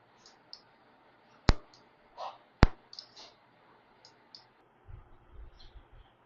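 On an elbow CPM rehabilitation machine, the pause button is pressed with two sharp, distinct clicks amid softer taps and faint mechanical ticks in a quiet room.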